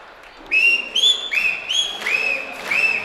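A spectator at a high school basketball game in a gym whistles sharply about six times in quick succession, each note bending upward, loud and near above a low crowd murmur.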